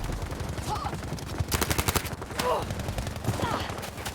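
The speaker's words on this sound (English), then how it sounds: "Brian taking incoming fire from I think it's an FG42 of Strider, funny enough." Rapid automatic rifle fire from an FG42 or Sturmgewehr in a competitive online shooter match, with clustered bursts of quick shots, loud, under an excited commentator's voice.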